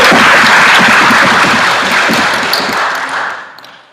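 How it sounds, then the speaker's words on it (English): A debate-hall audience gives a dense, sustained round of applause that fills the room close by and then tapers off toward the end. "we will reward you with a thunderous round of applause"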